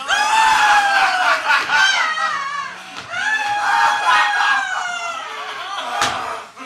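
A voice imitates a turkey's gobbling with warbling, yodel-like squawks, loud and close, ending in a sharp knock.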